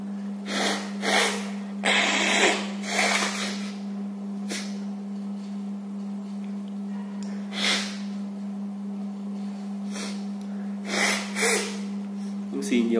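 Someone with sinusitis blows their nose repeatedly in strong, forceful bursts, with several loud blasts separated by pauses over a constant low electrical hum.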